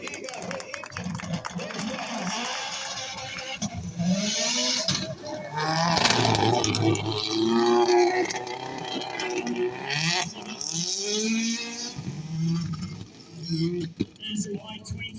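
At Wheels at Wanaka 2023 in New Zealand, an AP4 rally car engine roars and revs hard at a simulated rally stage start, loud bursts rising and falling while a commentator talks over a public address.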